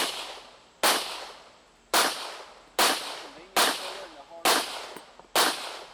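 Handgun shots ring out at a USPSA shooting match: about six sharp, loud cracks spaced roughly a second apart, each trailing off in a short echoing decay.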